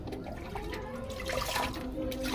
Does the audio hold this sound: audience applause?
no